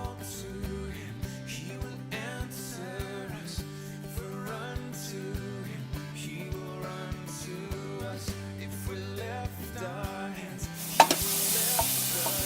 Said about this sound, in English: Now, as it starts to sizzle, to cook in its own lard, this beef now is ready to be seasoned